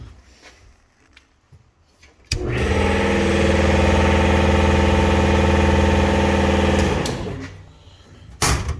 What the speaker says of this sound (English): And my compressor over there.